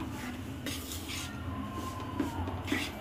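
Mung dal mixture stirred and pressed in a pan while it roasts, giving steady scraping and clinking of a spoon against metal with a faint sizzle beneath, close and continuous.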